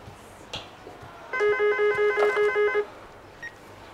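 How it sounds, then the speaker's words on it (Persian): An old-style telephone rings indoors in a television drama office scene, one clear electronic ring burst lasting about a second and a half, loud and alone over a quiet room. "من جواب میدم تلفن"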